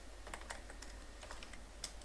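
Rapid, uneven clicking of computer keyboard keys as C code is typed, close and steady throughout with no voices.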